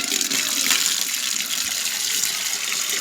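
Water running from a tap into a container at home, a steady close hiss and splash filling the whole short stretch without pause.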